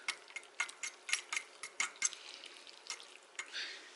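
Ramen noodles being mixed with everything-salt seasoning, a series of light wet clicks and taps of a utensil against a bowl, close and fairly quiet, in a quick irregular rhythm.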